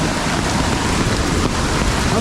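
Sudden torrential monsoon rain in the Konkan region, a dense, loud, unbroken roar of downpour mixed with rushing water and wind.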